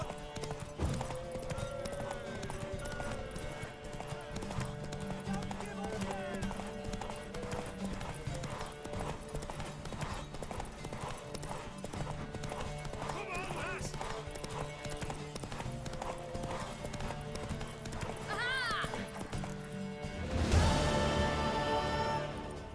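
A galloping horse in the video game The Witcher 3, steady rapid clip-clop hoofbeats running throughout with neighs near the end, under a busy game soundscape.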